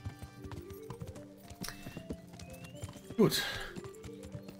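A horse galloping in the medieval video game Kingdom Come: Deliverance, with a steady, fairly close clip-clop of hooves, a brief whinny partway through and someone talking over it.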